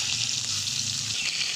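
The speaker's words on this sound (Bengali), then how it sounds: "মাছটা এবার হালকা করে ভেজে উলট পালট করে নিচ্ছে।" Small chela river fish sizzle in hot oil in a wok, a steady, close frying hiss that holds evenly throughout with no voices.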